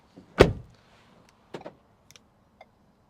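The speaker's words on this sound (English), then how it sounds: "Let's go shut the door and do it." One solid Ford Ranger door slam up front, then a few quieter clicks and thunks of the latch and lock, with no voices.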